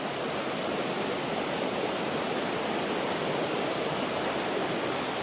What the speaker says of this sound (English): The rushing water sounds cool.